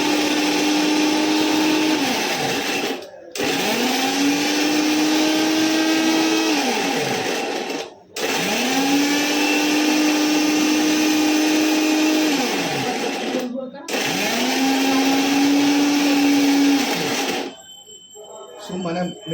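A mixer grinder blends whole biscuits for a homemade cake in four loud, whirring bursts separated by short pauses, with people talking around it.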